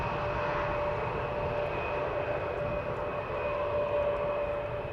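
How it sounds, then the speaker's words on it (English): An Embraer 175 jet passes at Amsterdam Schiphol Airport with a steady, loud engine roar and a faint whine held throughout, with no voices. "And again, Embraer 175, clearly recognizable from the front and from the back."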